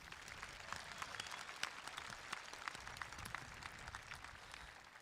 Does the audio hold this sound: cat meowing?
no